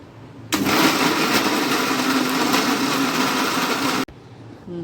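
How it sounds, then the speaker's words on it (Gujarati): A kitchen mixer grinder crushing ginger, garlic and raw onion, a loud, even high-pitched whirring roar that starts abruptly, runs for about three and a half seconds, then cuts off sharply. "હવે આપણે આ મિક્સરમાં આપણે ક્રશ કરી નાખીએ"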